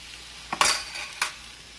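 A spoon stirring creamy sausage meat sauce in a pan, two short scraping strokes against the metal over a faint steady background, close and fairly loud.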